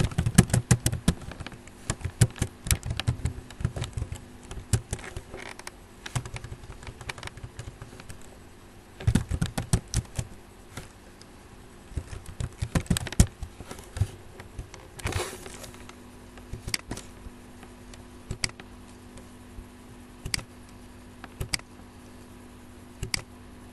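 Keys tapped on a computer keyboard while coding a Bootstrap web page, irregular bursts of clicks with pauses between runs, close and fairly loud, no talk.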